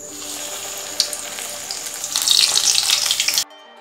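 Double-coated chicken blanket pieces frying in hot oil, a steady bright hiss that swells louder partway through, with crackles, then cuts off abruptly near the end.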